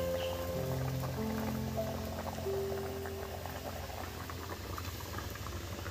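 Gravy for dhokar dalna, a Bengali lentil-cake curry, bubbling at a steady boil in a pan: a continuous soft patter of popping bubbles, close and fairly quiet, with faint tonal background hum.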